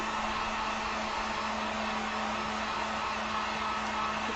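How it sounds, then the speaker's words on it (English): A heat gun blows steadily while drying acrylic paint on a painted wood sign, a constant close whooshing roar with a low hum, unbroken for the whole stretch and with no talking. "let me use the heat gun real quick"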